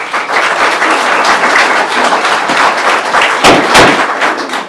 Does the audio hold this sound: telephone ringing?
no